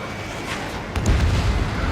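A missile strike explodes in a flight combat video game, a deep rumbling boom that swells in about halfway through and rolls on under steady background noise.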